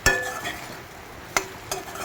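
Egg curry ingredients fry in a little oil with a low steady sizzle, broken by several sharp clinks as a utensil stirs and scrapes the pan.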